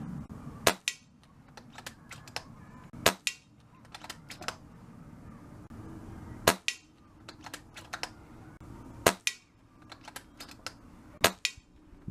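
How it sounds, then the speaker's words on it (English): Rifle shots fired in a group at a shooting range land as sharp, sudden cracks a couple of seconds apart, five loud ones with quieter clicks and rustles of handling between them. "So the next group of shots I'm going to fire"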